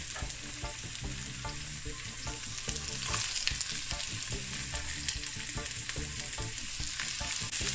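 Scallions and onions sizzle steadily in hot oil in a frying pan, a dense, continuous crackle with occasional stirring knocks, close and loud throughout with no talking.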